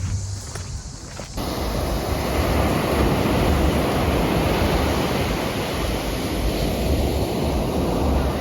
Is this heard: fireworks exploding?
no